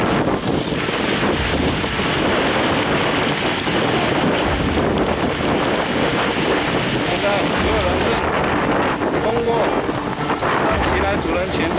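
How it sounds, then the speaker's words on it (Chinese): Strong wind and heavy rain batter a ridge near Qilai in Taiwan's Central Mountain Range during a stormy trek. Loud, continuous gusts buffet the microphone, with voices talking intermittently beneath the roar. "现在这边风很强，雨很大"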